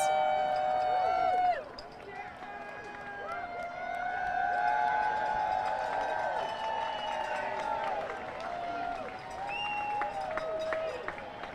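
A crowd cheers at the Carolina Hurricanes Stanley Cup parade: sustained, loud whoops and shouts with whistles and scattered clapping, building and holding steady across the scene, with voices talking nearby.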